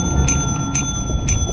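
Desk bell at the Company counter in Lethal Company, rung three times at an even pace, each ring a bright, short metallic ding over a steady low background hum.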